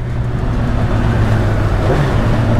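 A motorcycle accelerating along a road on a trip toward the beach, its engine a loud, close, steady drone with a low hum that rises slightly in pitch, with no talking.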